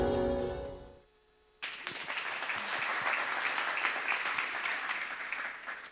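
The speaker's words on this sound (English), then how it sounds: "Before you finish clapping, we have another video" An audience at a trust fund launch event breaks into sustained applause after music cuts out, a dense, even wash of clapping that carries on steadily to the end.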